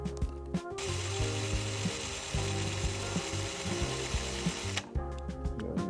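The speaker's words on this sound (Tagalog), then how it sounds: "So, nilalaliman ko dito using the drill bit. Smallest drill bit." A small drill fitted with its smallest bit bores deeper into a die-cast Hot Wheels toy car, a steady close mechanical whir with a faint rattle that runs for several seconds, then cuts out briefly before starting again.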